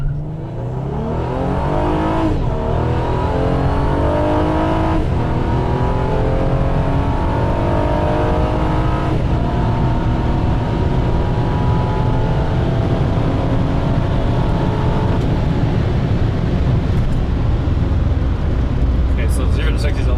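A 2014 Honda Accord V6 with a Ktuner Stage 1 tune and RV6 downpipe launching for a 0-60 and quarter-mile run, loud engine revving up through several gear shifts, sustained and close from inside the car, without talk.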